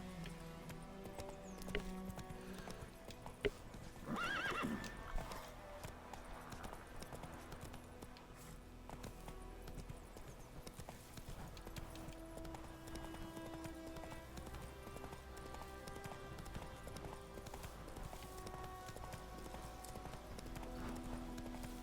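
Roach the horse from The Witcher 3 trots along a road in steady clip-clop hoof beats under game music and ambience, with a brief louder flurry of hooves early on.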